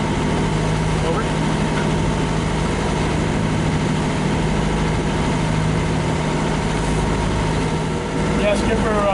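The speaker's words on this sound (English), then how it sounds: "I am operating my engine" A sailboat's engine runs steadily at idle, a loud, constant low rumble and vibration that holds throughout, while a voice talks over it.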